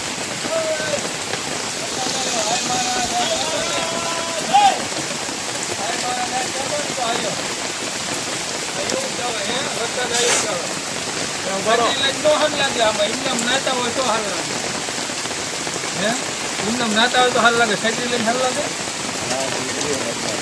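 Unseasonal rain falls steadily on farmland near Keriya village, Ranpur, in Botad, a constant wash of drops on surfaces, with voices talking faintly at times.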